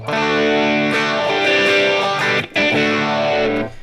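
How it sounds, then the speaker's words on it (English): A loud distorted electric guitar chord rings out with a sweeping, swirling phaser effect from a phaser pedal placed before the distortion, briefly cut and restruck near the end. "a pedal phaser sounds really great before your distortions"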